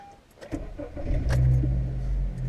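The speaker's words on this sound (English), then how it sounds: "start your car about 20 to 30 seconds before you have to drive off" A car engine cranks and catches in winter, then settles into a steady idle after a few clicks and rattles.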